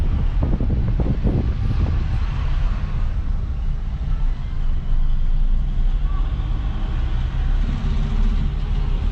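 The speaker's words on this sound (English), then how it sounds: "This is the ride now with the jeep going from Santa Rosa to the Aqua Termales up in the mountains." Jeep climbing a mountain road from Santa Rosa de Cabal, Colombia, toward the hot springs: a low, rumbling engine drone mixed with buffeting wind noise, steady and close, with a voice speaking over it early on.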